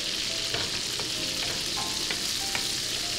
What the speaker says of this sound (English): We're going to add 1/2 stick of butter, get it melted down.